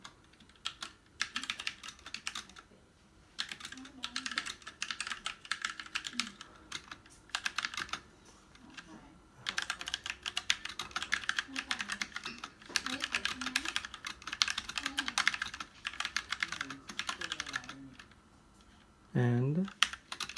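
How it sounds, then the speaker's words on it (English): Brisk bursts of typing on an affordable RGB LED mechanical keyboard with brown switches, a dense run of close, steady clacks broken by short pauses. "So I'm gonna type something like this."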